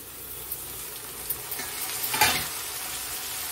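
Onions and spices fry in a hot pan with a constant crackling sizzle and a couple of light spoon scrapes, close by and with no voices.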